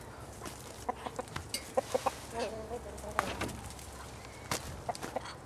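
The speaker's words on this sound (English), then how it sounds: "Hey, errant chicken, you're not supposed to be in here." A chicken wandering where it should not be on a farm with compost gardens gives soft, scattered clucks and short calls at close range, mixed with light footsteps and a faint background hum.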